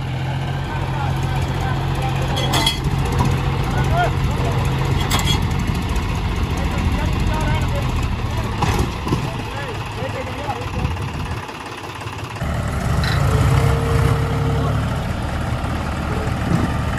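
A John Deere 5050D tractor stuck in mud, its diesel engine running with a steady low drone that dips briefly and then rises again, with people talking over it outdoors.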